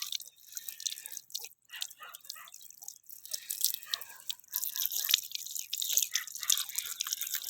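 Freshly foraged wild mushrooms being washed, with water dripping and splashing in small irregular patters close by, fairly faint and without voices.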